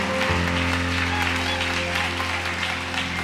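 A church congregation applauds the Lord during a Sunday service, a dense, continuous wash of clapping from many hands that fills the room under a sustained organ or keyboard chord.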